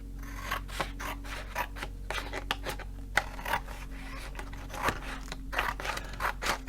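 Scissors snip and rub through diamond painting sheets, a run of quick close cutting strokes and papery scrapes at an uneven rhythm, with no voices.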